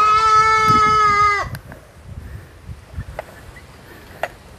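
A young goat bleats loudly and close for about a second and a half while being weighed, followed by quieter rustling and handling noises.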